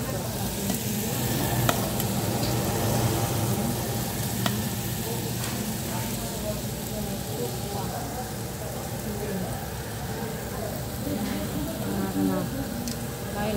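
Samgyupsal pork belly sizzles on a grill, a steady dense crackle and hiss filling the clip close up, with people talking over it.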